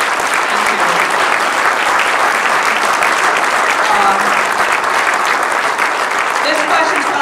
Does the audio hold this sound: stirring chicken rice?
no